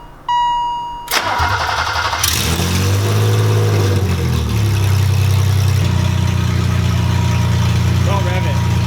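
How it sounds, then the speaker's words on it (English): A BMW E30 fitted with new headers cranks and fires up loudly close by, then settles into a deep, rough idle that steps up in level partway through. A voice speaks over the start. "But we're gonna start the car, and hopefully it doesn't sound too fucking loud."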